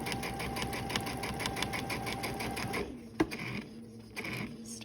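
A sewing machine stitches through quilt block fabric in a fast, even, rhythmic chatter for about three seconds, then stops, leaving a quiet room with a single sharp click.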